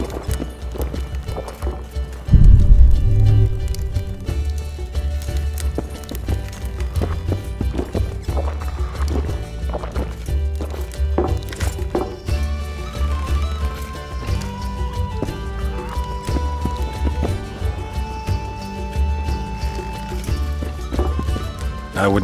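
Roach, Geralt's horse in The Witcher 2: Assassins of Kings, gallops with a steady clip-clop of hooves over a dense, continuous music bed, loudest from a sharp onset near the start and running throughout.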